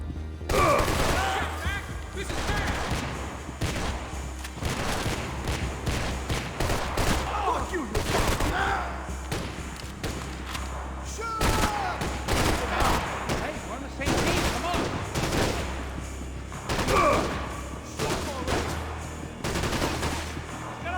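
Max Payne 3 game gunfire: rapid fusillades and machine-gun bursts crackle almost continuously for the whole stretch, dense and loud, with a voice talking over parts of it.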